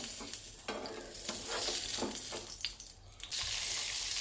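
Butter sizzles and crackles in a hot pan for a dal tadka, a loud close hiss that swells and settles with brief stirring clatter.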